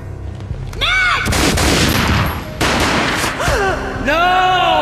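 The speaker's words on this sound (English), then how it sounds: "A gunshot boomed and she fell down in slow motion." Gunfire in the video game Max Payne comes as several sharp booming blasts with echoing tails, separated by whooshing slow-motion effects and resonant tones, loud and close throughout.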